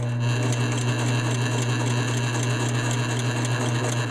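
Sewing machine stitching fabric for a DIY tree tent, a steady continuous mechanical whir with a fast rhythmic clatter and a strong low hum, close and constant throughout.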